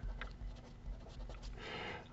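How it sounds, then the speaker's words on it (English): A wire colour label is written by hand, giving faint close scratching and tapping pen strokes in a quiet room. "so I'll just write green in here"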